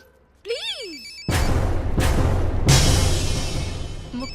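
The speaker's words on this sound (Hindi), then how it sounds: "मुक्ति कपूर का फोन" A telephone rings with an incoming call in a comedy romance film scene, a short electronic warble followed by loud, sustained ringing bursts, with no talk over it.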